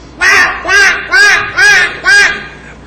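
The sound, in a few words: recorded bird call resembling a seagull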